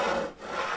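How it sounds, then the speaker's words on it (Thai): Wood is chopped in the Minecraft video game, giving a short, rough rasping scrape that dips briefly in the middle before continuing, fairly loud, with no voices. "ไหนลองตัดไม้ตัดไม้"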